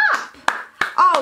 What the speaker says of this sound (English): What if you take your hands and you clap?